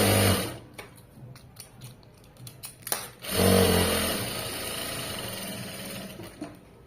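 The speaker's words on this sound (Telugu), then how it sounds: "మళ్ళీ ఇది ఉల్టా తిప్పేసుకుని ఇలాగా కార్నర్కి ఇంకొక స్టిచ్" A sewing machine stitches the corner of a garment where the upper and lower layers meet at the waist. A few light handling clicks come first, then a loud, steady, continuous motor whirr runs close by until the end.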